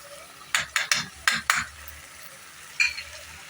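Chopped garlic dropped into a pan of frying chicken and okra, giving a few sharp clattering stirs and scrapes in quick succession over a low steady sizzle, with a final clink near the end.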